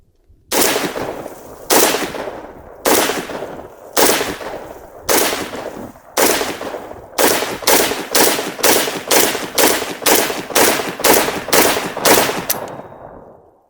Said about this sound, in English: even shooting rapid fire, it just stays really flat